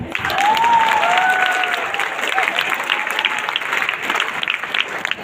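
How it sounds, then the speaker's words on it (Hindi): An audience at a comedy show bursts into applause, a loud, dense run of clapping that holds steady, with a voice calling out early and crowd murmur mixed in. "इतना ही है, ताली बजा लो।"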